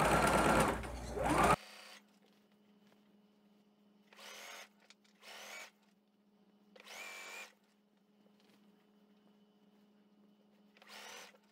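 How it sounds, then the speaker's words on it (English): A sewing machine runs in short bursts, stitching a blue fabric strip to a red strip for a round tablecloth, with four or five brief whirring runs after a loud opening clatter and a steady low hum between them. "I've sewed my blue strip to my red strip"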